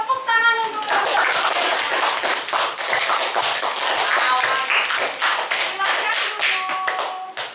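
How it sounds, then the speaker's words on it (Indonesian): Classroom students clapping their hands together in applause, a dense, steady run of many close claps lasting several seconds, with some faint voices mixed in underneath. "Tepuk tangan untuk silakan"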